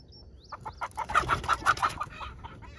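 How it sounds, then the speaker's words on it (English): A chicken clucks in a rapid series of short, clipped calls, close and fairly loud during a chicken catch, with a brief higher squawk at the start and no talk. "Chicken attacking my sister."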